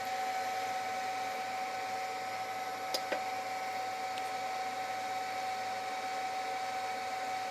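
A homemade wind turbine with new blades spins on its first test run, giving a steady, even whirring hum with a constant tone and a couple of faint clicks.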